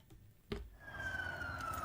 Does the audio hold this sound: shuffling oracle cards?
no